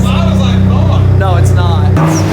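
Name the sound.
Ford F-150 truck engine cold start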